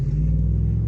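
A Ram truck with a 5.7 liter Hemi engine and aftermarket exhaust gives a deep, close rumble in a brief low burble with no voices.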